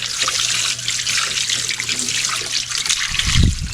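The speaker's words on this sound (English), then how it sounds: "So just go ahead, rinse all this debris off from sitting all year." Water from a hose sprays steadily over an electric golf cart to rinse off a year's debris, a continuous close hiss and splatter that ends in a louder gurgling splash.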